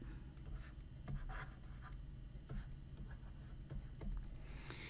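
Marker or chalk scratches across a board while the AND gate symbol is drawn, in faint, quiet strokes that come in short irregular bursts with small pauses between them.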